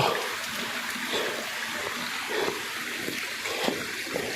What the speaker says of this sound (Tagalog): Maulan na. Umulan na po.